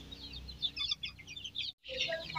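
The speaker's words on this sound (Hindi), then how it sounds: "सोनाली मुर्गी है देखिए।" Sonali chickens on a poultry farm in Jharkhand, pecking at feed, give short, bright clucks and chirps in a busy, overlapping run that breaks off for a moment near the end.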